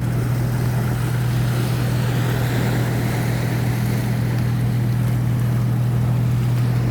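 Steady low engine drone from boats passing along the sea near the shore, a constant hum with wind and wave wash over it, continuous and moderately loud with no talking.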